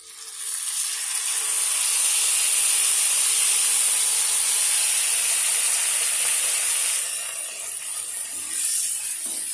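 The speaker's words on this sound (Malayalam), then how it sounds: "കുറച്ച് മിൽമയുടെ കട്ട തൈരില്ലേ, അത് നമ്മൾ ഡയറക്റ്റായിട്ട് ഒഴിച്ചു കൊടുക്കുക ചെയ്യുന്നത്" Milma thick curd hitting hot oil with frying onions and chilli sets off a loud, steady sizzling hiss that holds for several seconds and eases slightly near the end.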